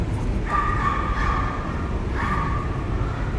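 A dog gives two short, yelping barks close by, about two seconds apart, over a steady background hum.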